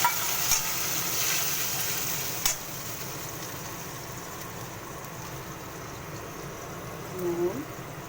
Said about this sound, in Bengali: এইখানে তেলের মধ্যে জিরা ফোড়ন দিচ্ছি